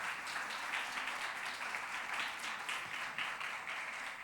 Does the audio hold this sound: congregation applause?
yes